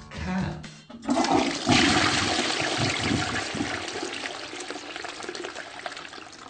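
A toilet flushes with a loud rush of water, then swirls and drains for several seconds, with no talk over it.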